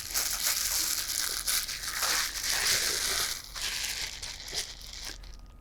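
Lightweight magnetic window covers for a Mercedes Sprinter 4x4 camper van being folded up, giving continuous loud crinkling, crumpling and rustling close by with brief pauses, no talking.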